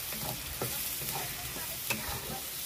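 Masala paste frying in oil in a pan, with a steady close sizzle broken by a few soft scraping stirs of a spoon, and no voices.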